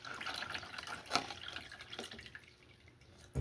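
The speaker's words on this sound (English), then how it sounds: "So I'm just getting that water down in there." Water from a 16-ounce bottle trickles and drips into the soil of a freshly up-potted Hoya lacunosa plant, a close, steady light splashing that thins out toward the end, with no talking.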